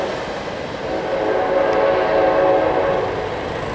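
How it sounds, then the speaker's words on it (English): An Amtrak Cascades passenger train rolls through Kent Station with a steady, loud rumble that swells slightly mid-pass, a faint horn-like tone riding over the broad rail noise, and no voices. "Amtrak Cascades."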